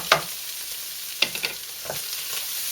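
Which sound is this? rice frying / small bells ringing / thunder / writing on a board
rice frying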